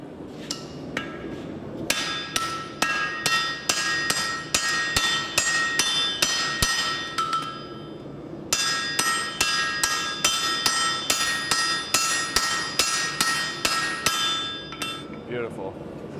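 Hammer strikes ring out on steel over an anvil while an axe is forged, a fast steady run of bright metallic blows in two long bursts with a short pause between, close and loud.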